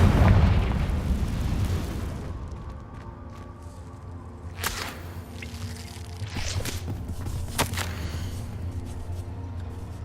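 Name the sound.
Confringo fire spell explosion, video game Hogwarts Legacy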